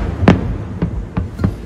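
Fireworks exploding at night during an engagement celebration: four sharp booming bursts at irregular intervals, fairly close and loud, over a low background hum.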